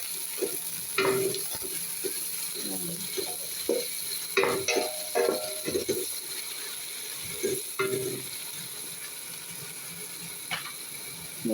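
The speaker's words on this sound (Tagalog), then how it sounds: "Medyo pa-browning natin yung sibuyas natin. Saute ng konti." Onions sauteing and browning in a home kitchen pan for a fried fish and rice meal, a steady low sizzle with intermittent scraping and stirring clatters, fairly close and without talk.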